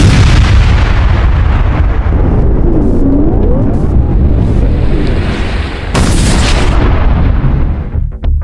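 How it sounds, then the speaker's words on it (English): A massive explosion blasts a boat-like craft to splinters, a long continuous roaring boom with heavy rumbling debris that swells again into a second crashing burst before fading out. "his own craft is blasted to splinters by the traffic explosion"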